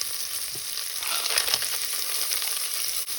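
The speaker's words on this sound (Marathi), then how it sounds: "मातशें मॅश करूया तो भाजया असो" Carrots, French beans and green peas fry in a pan for vegetable pulao, a brief hissing sizzle with a scrape or two of stirring, close and without talk.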